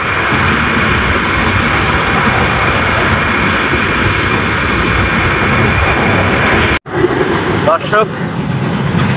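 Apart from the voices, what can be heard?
riding inside a moving train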